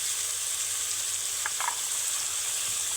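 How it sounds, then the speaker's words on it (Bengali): Steady, dense sizzling of cauliflower frying in a pan with Kashmiri chilli powder and cumin powder, a continuous close hiss with a couple of faint stirring scrapes. "ফুলকপিটাকে বেশ কয়েক মিনিট ধরে শুধু নাড়তে থাকতে হবে"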